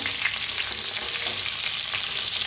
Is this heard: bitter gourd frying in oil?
yes